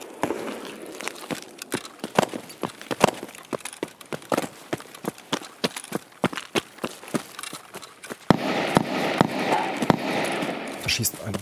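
Scavs being shot in Escape From Tarkov: a steady run of sharp distant gunshot cracks, irregularly spaced and fairly quiet, with some heavier wind-like noise near the end.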